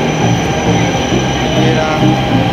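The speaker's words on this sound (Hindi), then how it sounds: "ट्रेन आ चुकी है और हम लोग जाएंगे अब इसी से।" A Delhi Metro train arrives, rumbling steadily nearby, a continuous low roar of rolling wheels and carriage noise with faint high whine, no talking.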